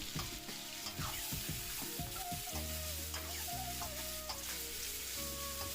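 Whole spices and black pepper sizzle steadily in hot oil for a chicken karahi, with repeated scrapes and clinks of a stirring spoon against the pan and no talking.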